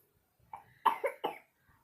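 A short burst of three or four dry coughs, close and fairly loud, in an otherwise quiet room.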